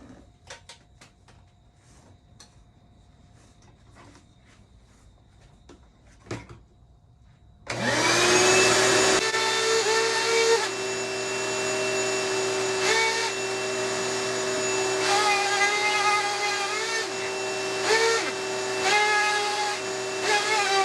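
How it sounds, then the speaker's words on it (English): A router fitted with a rabbeting bit cuts a door panel to countersink speaker openings. After quiet shop noise, the motor spins up abruptly about a third of the way in and holds a loud, steady, high whine to the end. "Now I'm gonna use a rabbiting bit, and that'll countersink the speakers."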